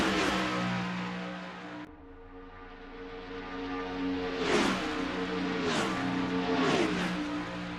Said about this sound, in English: just hear the cars zooming through